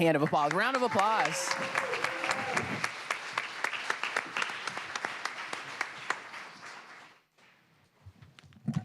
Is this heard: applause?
yes